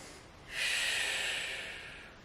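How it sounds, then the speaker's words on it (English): One big, steady breath drawn close by during an intermediate full-body movement flow exercise. It starts suddenly with a breathy hiss and holds for nearly two seconds before slowly fading. "Big breath."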